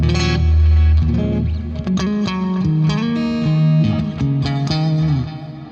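Electric guitar through a clean-tone preset called Clean Run from Hyper Kiesel, a run of chords and notes with chorus-like shimmer and reverb, played loud and close with no talking.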